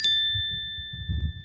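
A single bright notification bell ding rings out at the start and decays slowly, with soft low rumbling sounds underneath.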